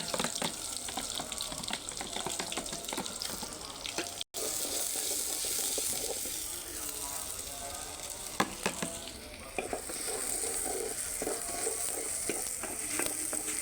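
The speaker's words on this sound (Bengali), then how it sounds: "পেঁয়াজ কুচি অনেক সমস্ত ভাজি হচ্ছে" Chopped onions fry for beef curry on a village clay stove, a steady close sizzle with scraping stirs and occasional clinks running throughout.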